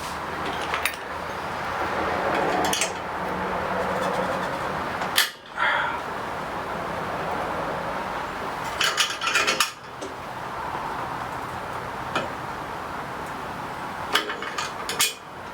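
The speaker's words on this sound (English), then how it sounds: "I'm gonna hammer these things in as much as I can." A few sharp metallic hammer strikes ring out as clutch parts are driven into an Indian Scout motorcycle, spaced several seconds apart, over a constant workshop hum.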